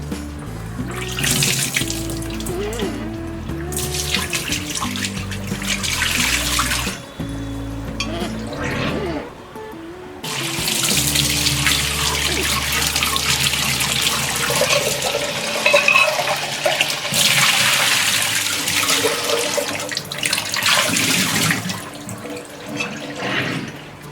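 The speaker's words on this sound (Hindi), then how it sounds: "अब हम ये पानी निकाल देंगे और इसे धो लेंगे।" Water runs from a tap and splashes into a sink while a clay pot is rinsed and scrubbed, with brief pauses and background voices at the start.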